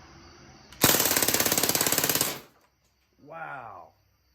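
DPMS SBR full-auto CO2 BB rifle emptying its magazine in one rapid burst of about two seconds, a loud, evenly spaced rattle of shots, then quiet and a brief voice.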